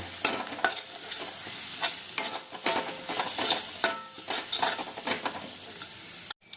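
Fried spices with red chilli powder stirred hard in a pan for a koi fish tel jhal, a loud close sizzle with frequent sharp spoon scrapes and clinks in an uneven rhythm, ending in a brief silence and a final knock.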